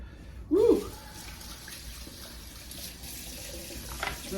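Kitchen tap water running steadily into a sink while food is rinsed for a crock pot pork stew, a low continuous hiss after a brief louder splash at the start, with a short voice sound.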